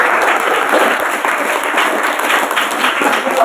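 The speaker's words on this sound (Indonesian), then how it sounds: "Tepuk tangan untuk grup B." Audience at an Islamic boarding school quiz contest applauds group B, loud and dense clapping from many hands sustained evenly throughout.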